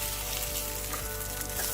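A seasoned burger patty sizzles steadily in a hot pan just after being flipped, a close, continuous frying hiss with no talking.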